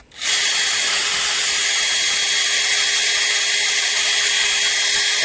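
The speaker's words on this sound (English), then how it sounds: "Let's get them drilled out." Power drill whining steadily and loudly without pause, drilling out old rivets from skid plates, close by and with no talking.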